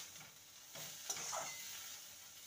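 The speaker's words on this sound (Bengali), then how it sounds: "মুসুর ডাল দিয়ে ভালো করে নেড়ে নিয়েছি মিনিট 2।" Lentils and chopped pointed gourd being stirred in a pan over a gas flame, a soft steady sizzle with faint scraping of the spoon, close and quiet with no talking.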